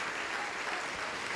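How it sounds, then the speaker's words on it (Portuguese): Church congregation applauding during a Portuguese-language sermon about the coming of Jesus, a brief steady wash of dense clapping that fills the room evenly with no break. "Vamos aplaudir mais ao nome do Senhor Jesus"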